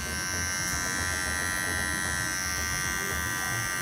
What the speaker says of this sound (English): Alright, the clipper's still running.